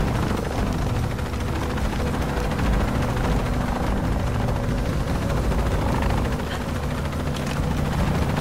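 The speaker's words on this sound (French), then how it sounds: "Je suis dans l'hélico, j'ai un pilote." A helicopter in the Shadow of the Tomb Raider video game gives a loud, continuous rotor chop and engine drone heard from on board, steady and unbroken throughout with no speech.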